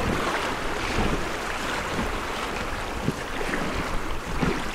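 River waves on the Kitoy River sloshing and splashing around a packraft in a narrow stretch of rapids, a loud continuous rushing wash with occasional sharper slaps and some wind buffeting the microphone, with no talking.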